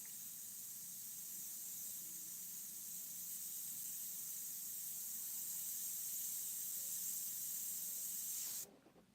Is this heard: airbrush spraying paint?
yes